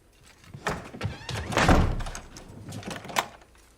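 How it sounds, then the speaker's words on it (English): A heavy door slides and thuds shut in a haunted-manor horror drama, a muffled rumbling slam followed by a couple of softer knocks. "They're going to shut the door."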